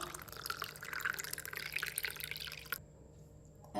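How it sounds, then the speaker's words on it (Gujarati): Cold water pours in a continuous splashing stream into a fennel sherbet drink for a few seconds, then stops abruptly, leaving near silence. "ઠંડુ પાણી નાખીશું."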